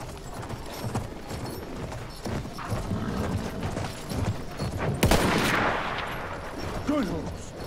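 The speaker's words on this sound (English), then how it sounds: "I'm probably just gonna ride the horse." Rapid hoofbeats of a galloping horse in the video game Battlefield 1, mixed with bursts of gunfire and a sharp loud crack midway, with muffled voices underneath.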